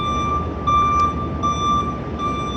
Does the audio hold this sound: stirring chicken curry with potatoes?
no